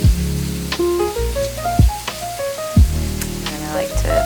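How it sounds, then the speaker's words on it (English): Squash cooks in a single pot for tacos, a steady close sizzle under a tonal pattern of stepped pitches, with several sharp thumps spaced through it, loud and with no talking. "you start with the squash first because it takes the longest to cook down"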